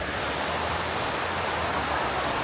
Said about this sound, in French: C'est une petite cascade.